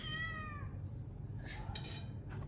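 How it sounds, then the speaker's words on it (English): A cat gives a single clear, drawn-out meow close by, at a site in Jerusalem, followed by faint clinks and quiet room noise. "Hello, Kitty"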